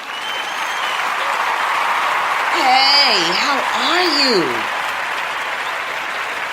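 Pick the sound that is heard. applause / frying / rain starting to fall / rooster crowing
applause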